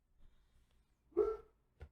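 A single dog bark rings out in a quiet indoor space, sharp and fairly close, followed shortly by a brief, fainter yelp.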